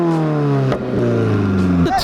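A supercharged Toyota GR86's deep, throaty touring exhaust revs and drops in pitch, loud and close, with two rising bursts.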